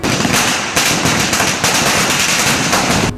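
Firecrackers burst close by in a dense, continuous crackle of rapid pops, set off during a Ganesh immersion festival. The burst is loud and steady until it stops abruptly at the end.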